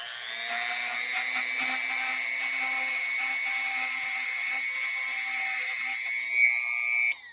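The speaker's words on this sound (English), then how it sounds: "hopefully the Dremel doesn't grab this thing and go, ah, like it sometimes does" Dremel rotary tool spinning against a brush to clean it, a steady high-pitched whine with a constant tone that runs close and loud throughout, changing slightly near the end.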